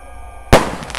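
A single sharp, loud bang from a 0.8-size Roman candle firework fired outdoors during Lebaran celebrations, breaking out of a quiet background and trailing into a crackling decay.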